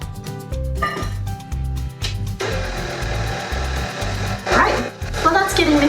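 Chocolate chunk cookie dough with baking soda being mixed, a steady churning, clattering whir that grows busier partway through, heard under loud rhythmic background music.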